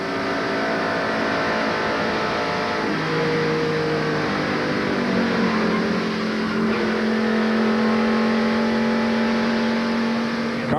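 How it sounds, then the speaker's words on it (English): Stock cars race at the 1993 Pepsi 400, including a NASCAR Meineke Ford, with loud sustained engine roar and rising, shifting engine tones as cars rush past in a dense, continuous pack. "Looks like the Jimmy Spencer and Meineke Ford is going to lose control going in turn 1"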